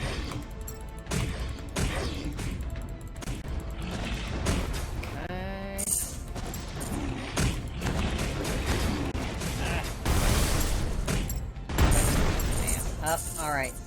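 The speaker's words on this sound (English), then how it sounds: "That was not a good missile launch." Missile launch in the mech combat game M.A.S.S. Builder: a busy run of whooshes, bangs and crashing impacts, with rising tonal sweeps, loud and continuous, ending in heavier blasts.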